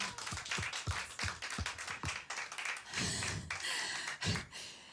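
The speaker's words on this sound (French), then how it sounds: "On peut l'applaudir encore." An audience at a live stage show applauds a performer, with scattered sharp claps at first that thicken into a steady, fairly loud round of clapping.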